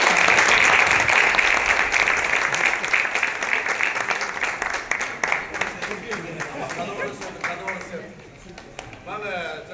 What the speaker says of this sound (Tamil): அவருக்கெல்லாம் கைத்தட்டி வாழ்த்து